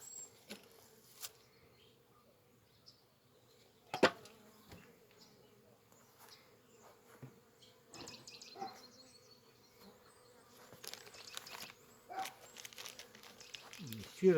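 Honey bees at a hive in Belarus, a steady low buzzing drone close by, joined by occasional crinkling, knocks and handling noises of the hive box, growing busier toward the end.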